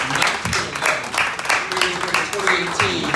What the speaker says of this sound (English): Can we give them a hand just for that, folks?